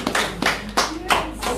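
A few separate bursts of clapping from a small gathering at a foundation meeting in Edo State, loud and close, in an uneven rhythm.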